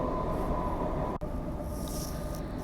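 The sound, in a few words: inside a moving train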